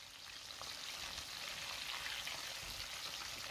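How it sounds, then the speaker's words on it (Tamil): Chicken pieces frying in a pan over a medium flame give a steady, soft crackling sizzle that stays even throughout, quiet and without voices. "ஸ்டவ் மீடியம் ஃப்ளேமில் வச்சுட்டு ஒரு 15 மினிட்ஸ் வரங்காட்டியும் இந்த சிக்கனை வந்து 2 பக்கமும் நல்லா பெரட்டி விட்டு ஃப்ரை பண்ணிவிடுங்க"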